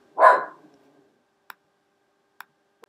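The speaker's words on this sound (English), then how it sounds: "that's the dog barking." A single sharp dog bark up close, followed by a few faint, isolated clicks in otherwise near silence.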